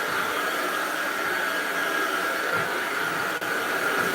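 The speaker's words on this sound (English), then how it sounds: "Now I just want to vacuum the whole floor." A household vacuum cleaner runs over a floor in a steady, loud, even whooshing drone close by, with one brief dip near the end and no voices.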